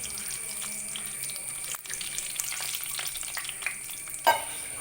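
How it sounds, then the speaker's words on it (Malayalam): Whole spices crackle and sizzle steadily in hot oil for the dish zurbiyan rice, a dense continuous fry noise with a brief dip partway and a sharp clatter near the end. "സ്പൈസസ് എല്ലാം നമ്മൾ ഇതുപോലെ ഒന്ന് ചെറുതായിട്ട് വറുത്തെടുക്കണം"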